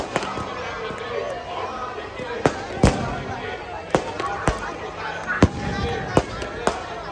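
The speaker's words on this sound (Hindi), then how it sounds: "रावण में बम पटाके जोर के बजने चाहिए" Firecrackers burst inside a burning Ravan effigy at a Dussehra celebration in Alwar, a scattered string of sharp cracks and bangs at irregular intervals over a steady crowd murmur and distant voices.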